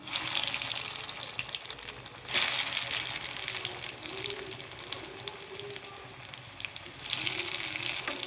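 Cutlet frying in hot oil, a steady close sizzle with bubbling crackle throughout and a brief louder surge near the start, no talking.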